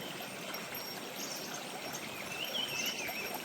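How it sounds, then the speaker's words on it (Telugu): Fast-flowing forest stream on the Sabarimala Peddapadam trekking route, rushing as a steady, loud broadband wash of water throughout, with a faint bird call briefly above it near the end. "ఇదిగోండి వాటర్ కూడా చాలా స్పీడ్గా ఫ్లో అవుతుంది"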